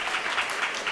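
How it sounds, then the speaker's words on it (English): Steady applause from an audience at a children's music festival concert, a dense continuous patter of many hands clapping for young performers taking their bow. "Give them a round of applause"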